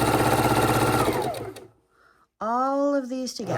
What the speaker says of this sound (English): we're going to sew them straight through